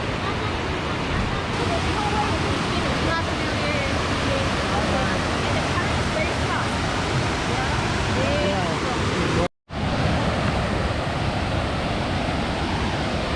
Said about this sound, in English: So this is the Lataberco waterfall